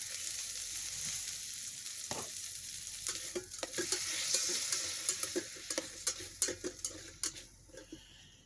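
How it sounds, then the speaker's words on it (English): Green beans marinated in Italian dressing sautéing in a non-stick-sprayed pan: a continuous close sizzle with a run of sharp utensil clicks and scrapes against the pan growing busier toward the end. "Green beans marinated in Italian dressing. Oh yeah, they gonna get sauteed."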